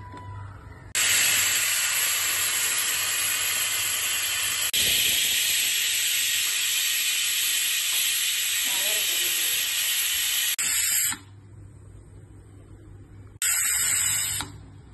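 Pressure cooker on the stove cooking Sindhi dal palak with tomato and salt, letting off a loud, sustained hissing whistle of steam for about ten seconds, a pause, then a second short burst of hissing near the end.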